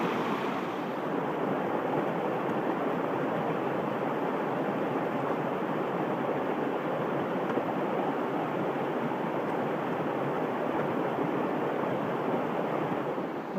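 Steady broadband rush of a stream flowing beside a bushcraft campsite in the woods, continuous and fairly loud with no talk over it.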